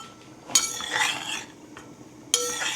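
Khichdi stirred in a metal pot, heard as two bright, close clanks of a spoon against the rim, each followed by a short scraping ring, with a quiet gap between them.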